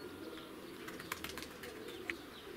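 Pigeons take flight, scared by a camera drone, with a soft flutter of flapping wings and a few faint chirps over a steady hum of wind and motor noise.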